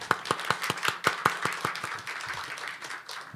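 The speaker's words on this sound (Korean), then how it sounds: "우리 하나님 앞에 영광의 박수를 올려드리겠습니다" Congregation clapping in a Korean church service in Jakarta, a steady run of sharp, fairly rhythmic claps from a modest crowd that loosens into scattered applause and fades.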